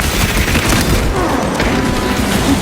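Grenade blasts in the Warhammer 40,000: Space Marine 2 video game make a dense, continuous roar of booming detonations that runs loud and unbroken with no pause.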